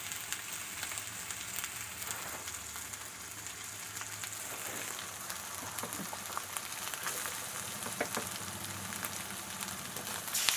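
Large marinated fish sizzling and crackling in hot oil in a pan for a fish curry, a steady dense frying hiss with small pops, close and alone.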